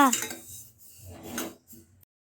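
Sesame seeds dry-roasting in a pan give a soft, intermittent scraping rustle as they are moved about, with light metallic scrapes and a brief clink, fairly close and quiet, fading to silence at the end.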